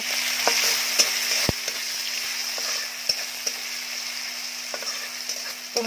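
Deseeded tomato and bean pods sautéed in a pan, a constant soft sizzle with occasional clicks of a spatula against the metal, close up.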